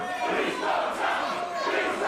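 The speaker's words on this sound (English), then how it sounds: "The crowd chanting, please don't tap." A wrestling crowd at a live match chants loudly and steadily in unison, a dense sustained roar of many voices filling the whole stretch without pause.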